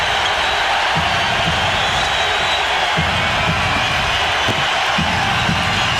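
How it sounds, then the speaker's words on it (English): Basketball arena crowd roaring and cheering at a tied late-game moment between the Jazz and Rockets in 1994, a dense steady wall of noise with faint ball bounces beneath. "Crowd on their feet."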